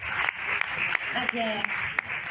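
Audience applause welcoming a guest to a film club screening of anthropological documentaries, a steady wash of clapping running throughout with a voice speaking briefly over it.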